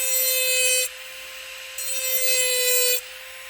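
A rotary tool engraves deeper into a glass bottle with a steady high whine and gritty grinding, two close, loud passes separated by a brief lighter stretch.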